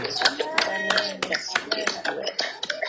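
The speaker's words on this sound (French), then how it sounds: "Acclame pour Dieu, il ne reste que 3 minutes pour terminer" A church congregation claps in acclaim for God, irregular hand claps ringing out near and loud in a resonant hall, with voices and cheering mixed in around them.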